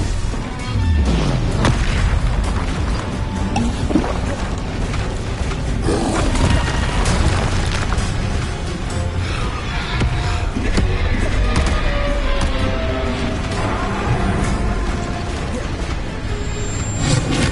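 Bombarda and other spell blasts going off in the Hogwarts Legacy video game: dense, loud booms and crashes with no letup for over seventeen seconds.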